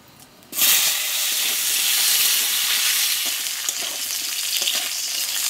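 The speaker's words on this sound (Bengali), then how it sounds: "কেটে রাখা আলুগুলো দেব" Cut potatoes dropped into hot oil tempered with whole cumin seeds, bursting into a loud, sudden sizzle that settles into a steady, intense frying hiss, close and without talk.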